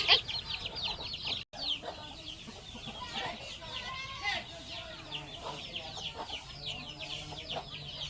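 Chicks and hens in a village poultry pen chirp without pause, with many thin, high peeps close by over a low background and a voice heard at times.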